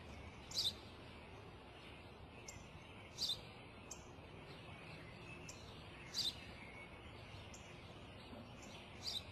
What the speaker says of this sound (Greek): Ένα σπουργίτι.